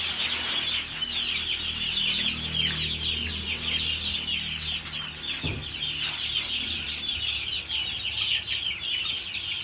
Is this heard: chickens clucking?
yes